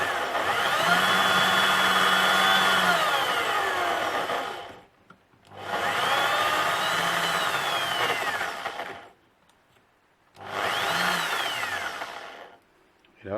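Three separate passes of a Lee hand tool trimming brass cartridge cases to length, each a few seconds of scraping, grinding cutting noise, broken by short quiet gaps.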